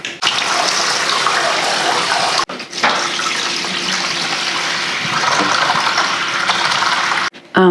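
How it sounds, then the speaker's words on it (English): Water gushes steadily into a tank from a tap as it is rinsed and refilled with filtered water, a loud continuous splashing rush that breaks off briefly near the middle and again at the end. "I'm just gonna rinse it out, add more filtered water"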